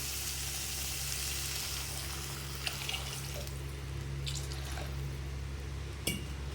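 A little water is poured into a pan of sautéing pumpkin pieces, with a soft liquid hiss, a few drips and faint sizzling under a low steady hum, no voices.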